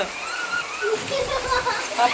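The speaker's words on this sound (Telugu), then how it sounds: "తల్లి వర్షం ఎక్కువైపోతుందిరా" Heavy rain pours down during an unexpected downpour, a steady broadband hiss and splatter that continues throughout, with people talking over it.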